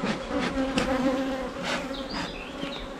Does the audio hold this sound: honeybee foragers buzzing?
yes